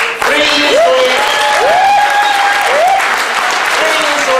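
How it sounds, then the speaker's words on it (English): A large crowd of about 500 people claps steadily at a live talk event, with rising whistles or cheers cutting through the dense applause for several seconds. "you can give yourself a big round of applause"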